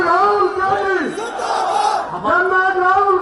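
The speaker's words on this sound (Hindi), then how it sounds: "सब लोगों से कहेंगे जोरदार तालियों से स्वागत करिए।" A large crowd at a political public meeting in Jammu & Kashmir cheers and shouts in loud, sustained waves, with voices chanting together over the roar.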